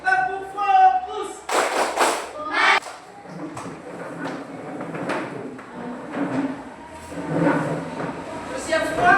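Classroom clapping chant, tepuk fokus, led by a teacher with students clapping in rhythmic bursts between chanted words; voices talk throughout and the claps are close and moderately loud.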